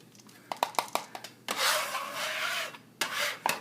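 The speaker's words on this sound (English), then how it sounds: "I'm going to use my bench scraper here just to grab these up, help me get them in here." A bench scraper drags chopped food across a cutting board, first as several quick scraping taps and then as longer rasping sweeps, close and fairly loud with no one talking.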